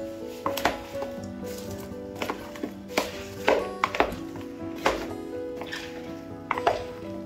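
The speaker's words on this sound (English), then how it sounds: "add about 2 tablespoons of extra virgin olive oil and then give it a nice mix" Vegetables being mixed with pepper, spices and about two tablespoons of extra virgin olive oil in a bowl, with repeated soft clacks and scrapes of utensils in an irregular rhythm, close and moderately loud, no talking.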